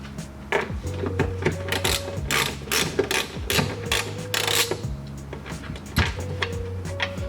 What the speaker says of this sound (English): we're going to use our 10mm socket and socket wrench to get these out